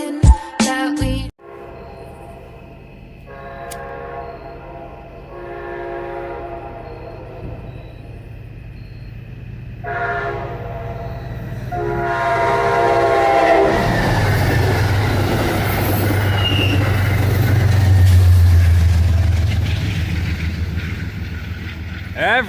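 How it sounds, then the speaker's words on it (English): A train passes nearby outdoors, starting with distant rumble and clacking bursts, then swelling into a loud, sustained roar of rolling wagons over the rails as it goes by; a voice is briefly heard early on. "Every fucking time I go to push start and make a video, a train goes by."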